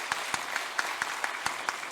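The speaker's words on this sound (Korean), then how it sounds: "우리 박수로 환영하겠습니다" During Sunday worship, a church congregation claps to welcome new members, the claps landing in an even, steady beat about four or five per second, as if in unison, with no voices heard.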